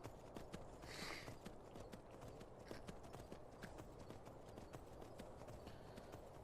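Horse hooves in the video game Skyrim clip-clop in a quick, steady rhythm on a hard surface, with a brief breathy snort near the start and faint background noise.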